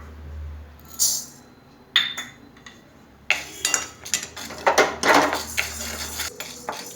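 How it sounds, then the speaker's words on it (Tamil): Urad dal added to a pan and roasted, heard as loud metallic clanks and scrapes of a spoon against the pan in irregular bursts, close by, with rattling in between. "இப்போ வந்து உளுத்தம்பருப்பு சேர்த்துக்கலாம்"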